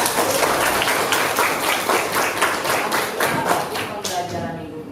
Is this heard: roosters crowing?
no